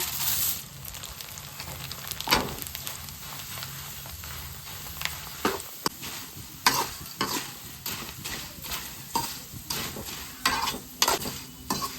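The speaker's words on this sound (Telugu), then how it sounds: "ఇప్పుడు ఆయిల్ పెట్టుకుని స్టవ్ పై కాన్ఫ్లెక్స్ వేపుకోవాలి" Cornflakes frying in hot oil on a stove, a continuous crackling sizzle broken by repeated scraping stirs and rattles, close and fairly quiet with no talking.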